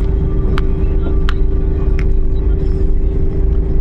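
Suzuki DA64W van climbing a very steep, winding uphill road, heard from inside as a steady, close engine drone with a constant hum and a few sharp clicks.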